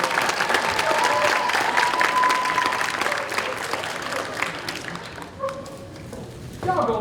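An audience at an MLK celebration ceremony applauds in a dense, sustained round that thins out after about five seconds, then swells briefly again near the end.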